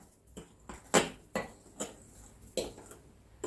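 Sugar being stirred into a dough mixture in a bowl gives a series of faint, separate clinks and scrapes, roughly one every half second, close by and with no talk.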